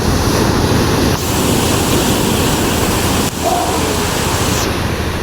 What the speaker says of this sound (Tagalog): Dumadaling araw talaga ang lalaki ng bagsak ng alon